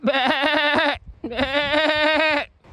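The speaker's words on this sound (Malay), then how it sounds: "Jadi sekarang ni kita masuk ke grazing area biri-biri. Biri-biri tu ketakutan." Two long, loud, wavering bleats from a sheep in an Icelandic grazing area, close by and separated by a short pause, with no talking.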